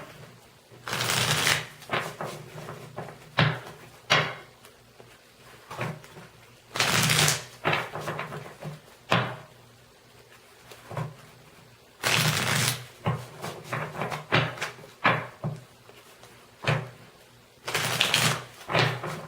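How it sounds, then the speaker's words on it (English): Tarot cards are shuffled repeatedly in bursts of riffling and slapping, with quieter handling sounds between the bursts. "I don't know why these cards are not wanting to shuffle"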